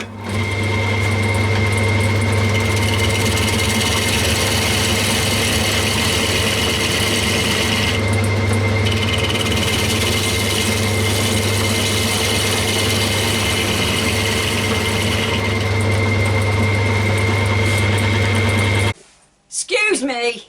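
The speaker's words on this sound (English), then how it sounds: "I found this lump of pine that I'm just turning to round." A wood lathe hums steadily while turning a lump of pine to round, a loud continuous motor drone with a faint tool scrape midway, ending abruptly before brief noise.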